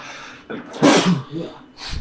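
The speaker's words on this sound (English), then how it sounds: "I'm about to sneeze." A single sharp sneeze bursts out close by, flanked by brief breathy sounds before and after.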